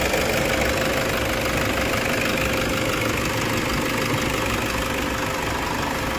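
A Toyota Innova engine idles after an overhaul for a seized piston, a loud, steady mechanical drone with a constant knocking texture and no talk.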